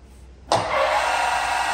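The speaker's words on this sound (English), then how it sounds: "Working of spindle at its maximum speed, that is 1760 rpm." An Enshu horizontal milling machine spindle starts abruptly and runs steadily at its maximum 1760 rpm, a loud, even mechanical whir with a sharp onset and no talking.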